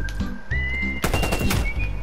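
Rapid gunfire from the video game Black Ops Cold War crackles in dense bursts, with a high whistling tone running over the shots and a loud volley in the second half.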